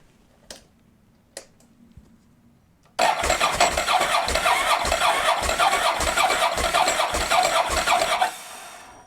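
A wrecked and rebuilt Ducati 999s motorcycle, on a battery left uncharged for months, cranks and catches after a few faint clicks, then its engine runs loud and close with a throbbing, uneven idle for about five seconds before cutting out.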